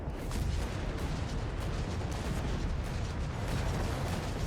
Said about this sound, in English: Grenades all over the place here.